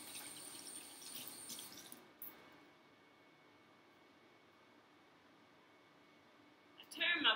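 Tap water runs steadily from a faucet for a couple of seconds while hands are washed at a kitchen sink during steak cooking, then cuts off, leaving a quiet room tone before a brief clatter near the end.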